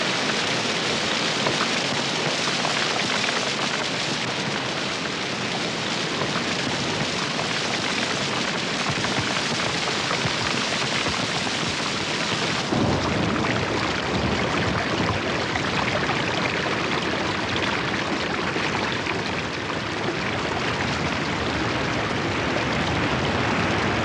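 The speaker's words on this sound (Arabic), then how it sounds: "عندما تمطر على الجانب الصحراوي من الجبال فإن المطر يكون غزيرا" Heavy rain pours on the desert side of the Arabian mountains, a dense, loud, unbroken hiss of drops on the ground that shifts slightly in tone partway through and continues without any voices.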